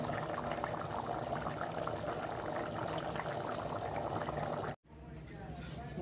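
Covered pot of chicken biryani rice simmering with lemon and salt, a soft continuous bubbling hiss that is faint and steady, then briefly cut off before resuming near the end.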